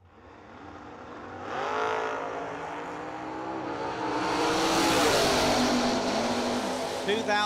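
Race cars and roadsters at the Million Dollar Race drag racing event, with engines rising from a distant rumble to a loud, close, high-revving roar, and an announcer talking over the noise.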